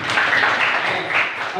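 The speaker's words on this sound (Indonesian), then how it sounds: "Boleh tepuk tangan buat kalian" A classroom of students applauds for their classmates during a school lesson, steady broadband clapping that fills the short moment at close range with a faint voice or two mixed in.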